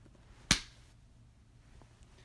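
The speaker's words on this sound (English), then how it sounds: "See how big the clap is on the audio capture" A single sharp hand clap rings out close and loud in a quiet room, decaying quickly into a low background hum.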